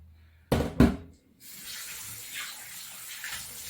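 Frozen chicken being washed under a running tap, with a couple of sharp knocks against the sink at the start, then a steady stream of water splashing nearby.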